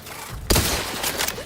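Gunfire from the video game The Outer Worlds 2 erupts as a sudden loud burst after a short quiet lead-in, then continues as a dense, sustained volley of shots.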